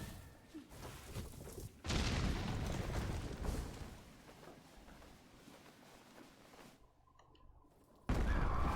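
Explosions in the video game Silksong, with loud broadband bursts near the start and again at the end over a dense, continuous game soundtrack.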